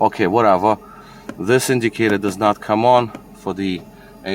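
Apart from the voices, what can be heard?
No everyday noise stands out behind the speech.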